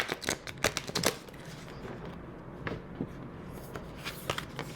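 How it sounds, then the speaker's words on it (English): Tarot cards are shuffled in quick riffling bursts, crisp flicks and soft slaps close by, with a brief quieter stretch between flurries. "I'm gonna do one more shuffle because that was a pathetic shuffle"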